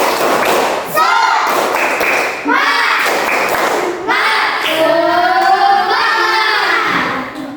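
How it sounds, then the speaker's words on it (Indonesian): A fourth-grade class doing a morning spirit cheer: rhythmic clapping and thumps mixed with loud chanting children's voices, filling the room nonstop. "Tepuk semangat."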